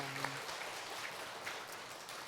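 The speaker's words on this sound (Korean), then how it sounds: "우리 박수하겠습니다" A congregation at a church worship service applauds steadily throughout, a dense wash of clapping filling the room without pause.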